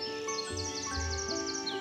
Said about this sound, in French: les oiseaux se mirent à chanter